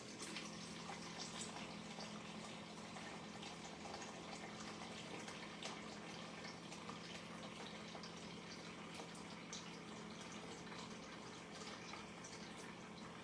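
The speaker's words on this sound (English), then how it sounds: "I'm just filling it up with my water pitcher here so you can see what I'm doing." Water poured steadily from a pitcher into a pot holding a piece of corned beef, a continuous soft splashing and gushing that runs unbroken throughout, fairly faint and with no talking.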